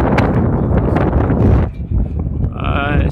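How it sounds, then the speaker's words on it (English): Gusting wind buffets a camera microphone outdoors on a ranch road near Palmira, Zacatecas, a loud broadband rumble that drops briefly midway, then swells again. "It's kind of windy today, so it might be a little noisy on the camera."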